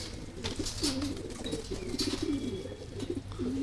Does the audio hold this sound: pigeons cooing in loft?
yes